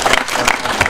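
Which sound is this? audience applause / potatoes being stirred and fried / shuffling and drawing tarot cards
audience applause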